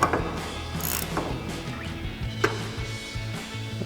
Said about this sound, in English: grab our 18mm ratchet wrench and tighten that down